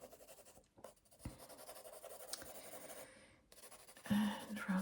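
A pencil scratches and rubs across sketchbook paper, strokes starting and stopping in short bursts with brief gaps, close and quiet, growing firmer toward the end.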